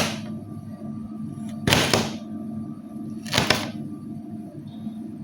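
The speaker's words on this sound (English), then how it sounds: "Please ignore the sound of the cut." A knife chops through ginger on a cutting board in a home kitchen, giving two sharp, separate cutting strokes about a second and a half apart against a faint steady hum.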